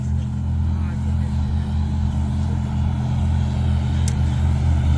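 Yellow classic Lamborghini Gallardo driving, its engine a steady low droning hum inside the car, with a brief sharp click near the end.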